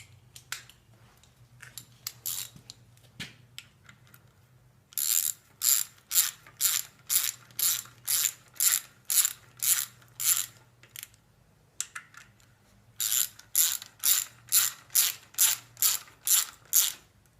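A socket ratchet wrench clicks in two long runs of rapid, evenly spaced strokes while turning bolts on an IH 240 tractor during rear main seal work, close and crisp over a low hum.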